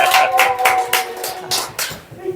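A church congregation at a Christmas service applauding, a burst of several sharp, close hand claps that thin out and fade over about two seconds.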